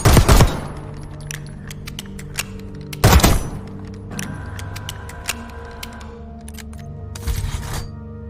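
Gunfire from a Resident Evil 4-style weapon loadout in a Call of Duty firing range, with an extended magazine and CHF barrel. Three loud, sharp bursts of rapid shots are spaced seconds apart, with faint clicks and thuds between them.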